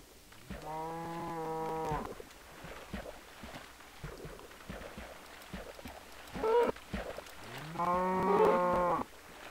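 A cow in the Minecraft video game gives two loud, drawn-out moos, one early and one near the end, with a shorter bleat between them and soft game sounds underneath.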